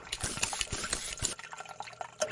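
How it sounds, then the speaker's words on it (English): Water from a hand pump at a campground in the Oregon Cascades splashes and pours steadily onto the ground, a faint, continuous wet rush heard from a short distance. "watching people use that water pump"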